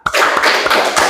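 A group of students clapping together once on command during a classroom clap-count exercise, a short sharp burst of hand claps that stops quickly.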